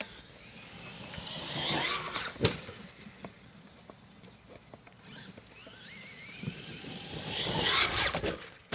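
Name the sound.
Traxxas Maxx RC truck being driven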